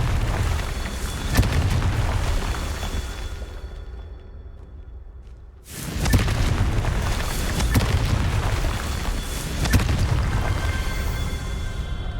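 A Confringo blasting spell from Harry Potter detonates as a loud, sustained boom with a roaring rumble, dropping away into a quieter lull before a second heavy blast erupts and keeps rolling with crackling bursts.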